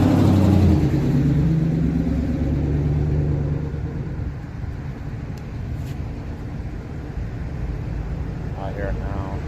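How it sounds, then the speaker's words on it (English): Heavy trucks rumbling past on a road near the Allegheny River in Parker, a loud, steady low roar that swells at the start and eases slightly while staying continuous throughout, with a person talking faintly beneath it. "we got all these loud trucks coming."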